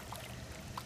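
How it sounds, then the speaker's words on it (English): Water moving steadily through a backyard pool as the pump runs, a soft continuous wash with light trickling and no voices. "we've turned the pump back on so that the water is flowing"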